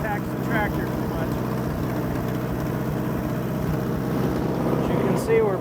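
Continuous close rumble of an Allis Chalmers D14 tractor engine working in low gear while clearing snow, a constant loud drone with a faint brief squeak near the end.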